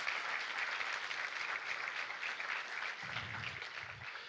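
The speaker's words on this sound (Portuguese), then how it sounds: "uma salva de palmas ao Senhor" Church congregation clapping together in sustained applause for the Lord, a dense, even wash of hands heard from a distance, fairly faint, with a low murmur underneath.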